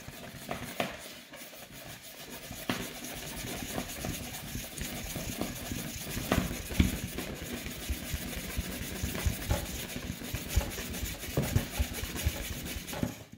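Rubbing an object to build up static electricity by friction, a steady scratchy scraping that continues through the whole clip at close range, with small irregular bumps in intensity and no talking.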